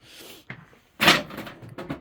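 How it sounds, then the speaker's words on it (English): A workshop drawer slides and knocks, with a soft bump followed by a louder wooden clatter and rattling as it tips out. "I have a very annoying ghost drawer that keeps tipping out."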